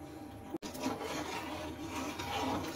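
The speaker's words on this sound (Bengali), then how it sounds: "এটা এখন নাড়তেই থাকবো, আমরা অনবরত নাড়তে থাকতে হবে।" A spoon scrapes and rubs steadily through thickening rice flour aikhar khir in a pot, a soft continuous rasping with a brief dropout early on, close and fairly quiet, with no speech.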